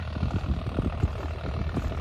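Farmtrac 60 tractor engine ploughing a field, a steady low diesel drone with a rough, pulsing throb, fairly close and continuous, no talk.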